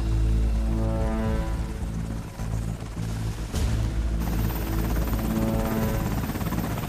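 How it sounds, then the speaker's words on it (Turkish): A helicopter roars nearby with a dense, continuous rotor and engine drone and steady low throbbing, loud throughout with no voices. "Helikopter!"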